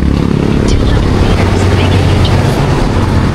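A motorcycle engine runs steadily by itself at idle, a loud, continuous low rumble close by with a constant level throughout.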